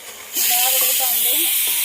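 Lamb head curry gravy boiling in a pot: a steady, loud hiss of bubbling liquid begins after a brief quiet moment and carries on evenly, with faint tonal sounds in the background.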